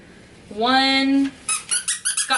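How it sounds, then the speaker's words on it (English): A squeaker inside a plush dog toy shaped like salmon on rice squeals once in a long, loud, close squeak, then gives a quick run of five or six shorter squeaks as the toy is squeezed. "So it's got a squeaker in the rice itself and then a squeaker in the salmon."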